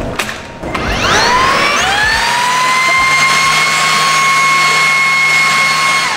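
A Makita motorized blower in a Cebu tool showroom spins up over about a second into a loud, steady high whine that holds without a break, with no voices over it.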